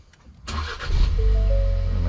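A 2021 Ford Bronco engine cranks and catches, then settles into a steady, close idle hum.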